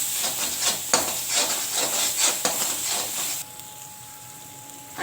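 A spoon scraping and stirring ginger-garlic paste with onion paste as it sautés in a pan for mushroom masala, repeated rubbing strokes for several seconds before fading to quieter pan noise.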